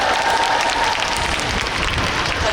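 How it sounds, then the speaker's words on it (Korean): Audience applause at an open talk during the Busan International Film Festival, a dense continuous clapping from a crowd, steady and fairly loud throughout. "박수 부탁드립니다."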